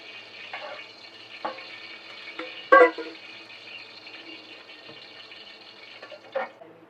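Oil heating in a pan while biryani is being prepared, giving a soft, steady hiss with a few light clatters and one brief louder knock midway, fairly close and quiet, with no talk.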